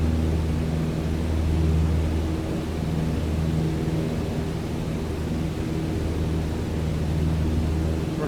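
A Cessna 152 light aircraft flies a circuit, heard from the cabin as a steady, droning engine hum with low propeller tones under broad rushing air noise, continuous and fairly loud.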